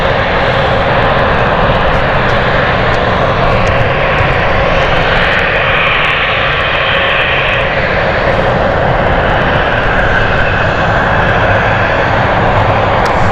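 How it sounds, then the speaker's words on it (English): A KLM airliner begins its takeoff roll at London City Airport on a stormy night. Its engines make a loud, continuous roar that holds steady throughout, with no voices. "So KLM has started off and is now moving."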